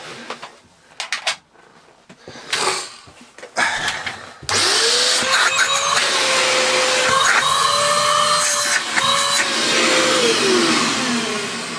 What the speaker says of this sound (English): We has a working vacuum cleaner with a bag.